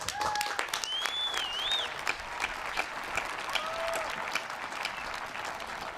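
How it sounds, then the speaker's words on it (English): Audience applause at a Westminster College School of Nursing and Health Sciences commencement honoring new graduates, a broad moderate crowd clapping with scattered sharper claps and faint whistle-like cheers over a steady hum. "Please join me in a round of applause for all of these new graduates"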